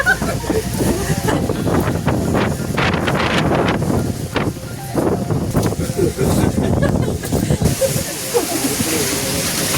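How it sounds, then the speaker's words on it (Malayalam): Strong wind buffets the microphone continuously at the Parunthumpara hilltop viewpoint, a loud, roaring rush with no letup. "അത്ര ഭീകരമായിരുന്നു അവിടുത്തെ കാറ്റ്"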